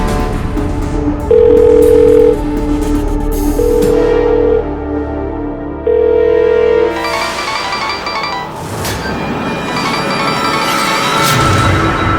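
Telephone dial tone from an unanswered call, a steady ringback pattern repeating three times over background music, fairly loud.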